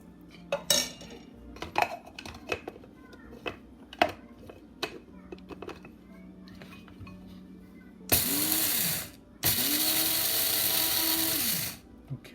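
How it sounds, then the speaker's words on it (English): An electric grinder whirs loudly in two long bursts as it grinds fried rice, crushed corn and peppercorn for steamed beef, coming after scattered clinks of kitchen utensils. "some fried rice and crushed corn and peppercorn into the grinder"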